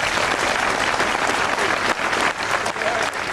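Loud, sustained applause from a crowd honours young cyclists, a dense continuous clatter of clapping that holds steady and close.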